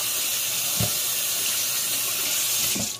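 Tap water runs steadily into a sink for hand washing, a loud continuous rushing with a couple of soft low thumps and a sudden stop at the end.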